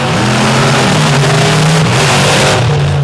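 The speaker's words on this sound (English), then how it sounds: "Right now, round 1, monster truck racing on the line." Monster truck engines revving loudly at a racing event in Xenia, Ohio, a sustained close roar with rising and falling engine pitch, heard under an announcer's commentary.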